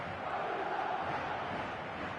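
A football video game stadium crowd roars in a steady, dense wall of cheering and chanting, loud and continuous throughout with no break.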